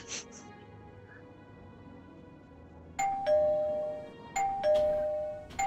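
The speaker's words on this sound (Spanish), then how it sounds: "A mí me hace gracia el timbre, tío." Doorbell chime in the Oblivion video game, two ringing ding-dong rings that come in quick succession after a stretch of quiet ambience.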